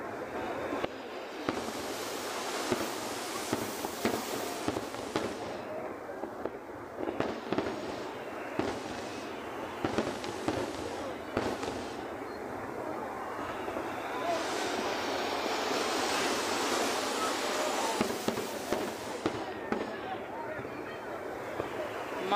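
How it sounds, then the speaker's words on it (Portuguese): Fireworks are heard over Icaraí beach in Niterói with a crowd present. Distant bursts and crackles come in irregular clusters over a constant rumbling background, with people talking throughout. "Imagens aqui da Praia de Caraí com a queima de fogos"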